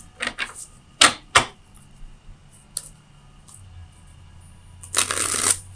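Tarot cards shuffled in quick riffling bursts, a few short crisp flutters followed by a longer rustling riffle near the end, close and clear in a quiet room.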